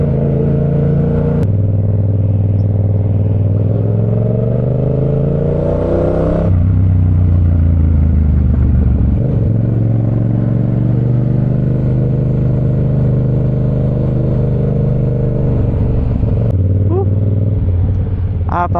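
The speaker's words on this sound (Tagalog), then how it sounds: "Napakasarap ng MT-07. Grabe yung tunog, crispy." A Yamaha MT-07 motorcycle engine while riding, loud and close, with rising revs through the gears, drops in pitch at each shift, and a steady throttled drone between.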